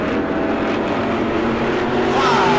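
E-Mod race cars roar around the New Smyrna track in a loud, continuous engine drone whose pitch climbs toward the end as the cars accelerate.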